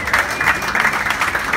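A crowd at the Dirk Nowitzki Celebrity Game press conference gives warm, close applause, many hands clapping in a steady, lively burst.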